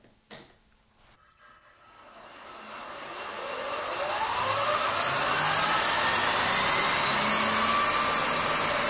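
An electric motor spins a set of wheels up to speed, a rising whine that climbs steadily in pitch and grows louder over several seconds before holding a steady high drone, with no talking.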